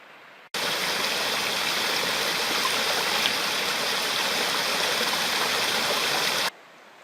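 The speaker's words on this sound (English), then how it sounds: "If I stop talking, you can hear the river." A river flows steadily with a constant, full rushing of water, close by and uninterrupted, with no voices.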